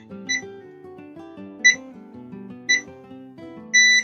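Quiet, tonal background music plays while four short electronic beeps from a kitchen timer being set ring out at irregular intervals, the last one held slightly longer.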